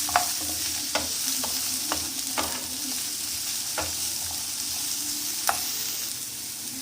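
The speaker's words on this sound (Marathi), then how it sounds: "तर त्यामध्ये आता आपण हा कांदा फ्राय करून घेऊया" Chopped onion frying in oil in a pan for a matar paneer dish, a steady sizzle with sharp scrapes and taps of a spoon as it is stirred every second or so, close and clear with no talk.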